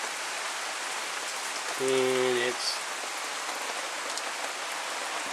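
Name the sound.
heavy rain falling outdoors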